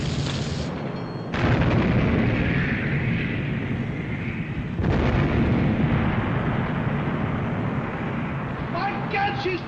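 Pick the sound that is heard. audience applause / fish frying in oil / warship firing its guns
warship firing its guns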